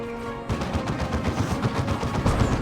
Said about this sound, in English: IskNorthen getting some plasma cannon shots in.